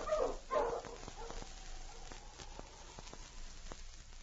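A husky sled dog team barks in a couple of quick bursts at the start, then fades to a faint, crackly background dotted with small ticks, with no voices.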